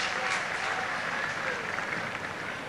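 An Australian cricket crowd applauds a four hit by O'Keefe in the 1970–71 Ashes Test against England, a distant, steady ripple of clapping under a commentator's voice.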